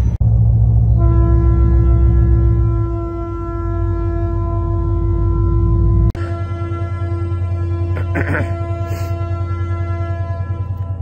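A locomotive pushing a train in the Andes rumbles loudly and steadily, its deep engine drone and tonal whine continuing while a horn-like tone and clanks sound partway through.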